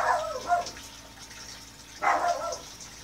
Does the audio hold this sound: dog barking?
yes